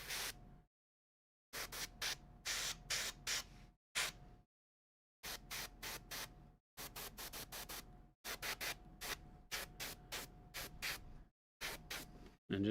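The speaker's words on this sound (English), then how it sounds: "And just kind of spray it." Airbrush spraying paint onto a T'au miniature model, heard as repeated short hissing bursts of varying length separated by brief silences, close and steady, with no talk.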